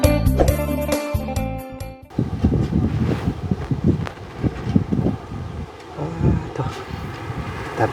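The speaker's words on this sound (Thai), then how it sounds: "ลมพัดวีพี่น้องเลยเนาะเย็นจ้อยลมบ่อยๆท่ามกลางหุบเขา" Wind sweeps through a mountain valley as steady, loud gusts buffet the microphone with a rumbling roar, after a couple of seconds of music at the start.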